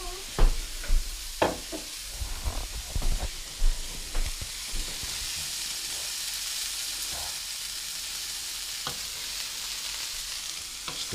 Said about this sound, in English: Is that the sound of stir fry I hear?